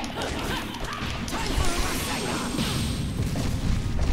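A character's down attack in Naruto Shippuden Ultimate Ninja Storm 4, a loud dense crash and boom of game combat effects that fills the moment with heavy impacts and rumble.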